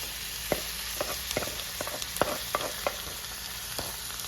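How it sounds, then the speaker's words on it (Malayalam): Ground masala powder sautés in a pan with a steady, close frying hiss, broken by quick, irregular taps and scrapes of a spoon against the pan. "നന്നായിട്ട് ആ പൊടിയുടെയൊക്കെ പച്ചമണം മാറുന്നവരെ നന്നായിട്ടൊന്ന് വഴറ്റി കൊടുക്കാം"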